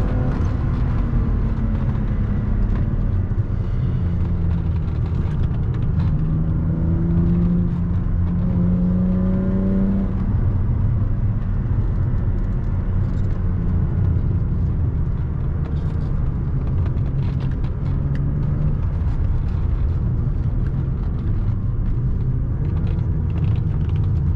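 A BMW E36 320i coupe engine drones steadily with low rumble and winter-tire road noise throughout, rising and falling slightly in pitch as it accelerates on a curvy road.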